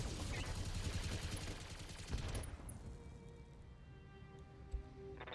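Multi-shot projectile weapons firing in the BattleTech mech video game: a dense, loud barrage of rapid overlapping impacts for about two and a half seconds, then a fading rumble with one more sharp hit near the end.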